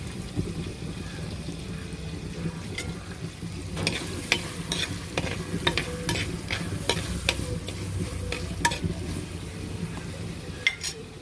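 Food being stirred and sautéed in a hot pan for a Kerala fish and tapioca meal gives a steady close sizzle, with repeated sharp scrapes and clatters of the spoon against the pan throughout.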